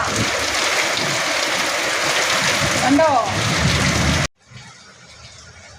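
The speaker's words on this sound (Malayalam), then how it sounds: "പുറത്ത് നല്ല മഴ പെയ്യുവാണ്" Heavy evening rain falls outside as a dense, steady roar that fills the scene, then drops away sharply near the end, with a voice speaking briefly over it.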